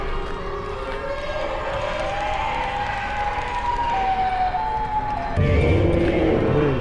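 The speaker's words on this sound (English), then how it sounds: "I'm hearing Siren Head, I'm hearing Cartoon Cat, and I'm hearing Lighthead." Siren Head creature in a horror video game giving a long, loud wavering siren wail that rises and falls steadily, then shifts to a lower, rougher tone near the end, with no talking.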